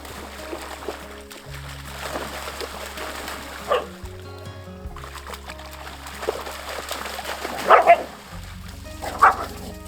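Dogs bark and yip in short bursts against soft background music, a few sharper barks standing out near the end.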